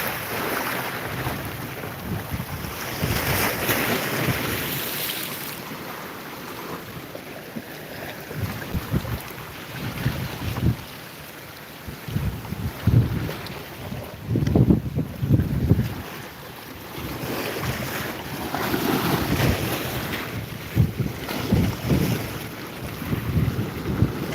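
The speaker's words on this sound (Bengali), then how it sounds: "বাতাস প্রচুর বাতাস হচ্ছে" Strong wind roars and buffets a microphone steadily during a rainstorm, with gusty surges and rushing water beneath, no voices.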